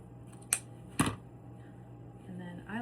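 Scissors snipping through 4-inch ribbon while trimming a bumblebee bow: two sharp, close snips a moment apart, then a quieter stretch with a faint low hum and some soft voice-like sound at the end.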